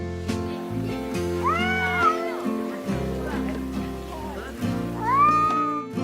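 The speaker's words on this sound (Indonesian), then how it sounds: "Biasanya kucing akan mengeluarkan suara menggeram saat berkelahi dengan kucing lainnya" Cats yowl and caterwaul in two drawn-out rising cries, one early and one near the end, over steady background music, as a fight between cats plays out.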